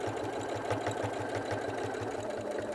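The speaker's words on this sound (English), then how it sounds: "I'm going to sew around the other three sides." A sewing machine stitches a fabric place mat with a steady fast mechanical rhythm, even and close, running alone without talk.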